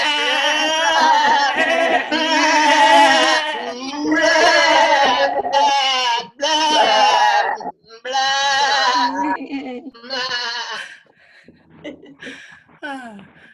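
Wavering sheep bleats, voiced by people imitating sheep at a summit, come in a series of loud, drawn-out calls that trail off into softer, shorter ones.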